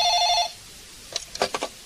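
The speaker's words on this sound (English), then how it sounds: "One morning in August, Joanna answers the phone." Telephone bell ringing as a sound effect in an audiobook, one short bright electronic ring heard alone, followed by a few soft clicks like a receiver being picked up.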